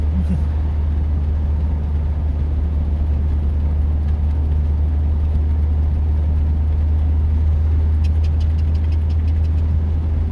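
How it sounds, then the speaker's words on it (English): Car engine with a small exhaust leak, running steadily and loudly close by on the road with a constant low droning rumble. "This is like little exhaust leak."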